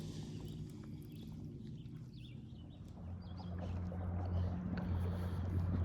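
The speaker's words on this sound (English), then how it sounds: "The motor has developed one forward speed, wide open." Small outboard motor on a Pelican Bass Raider boat running steadily at full throttle, a continuous low drone over water that grows louder toward the end.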